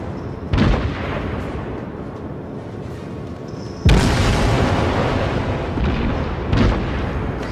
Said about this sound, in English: we're gonna start shooting at this destroyer